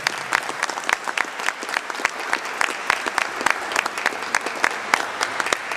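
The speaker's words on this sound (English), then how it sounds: "Give yourselves a round of applause" A crowd at an outdoor rally applauds itself, a steady wash of clapping with distinct individual claps popping through, fairly close and sustained throughout with no speech.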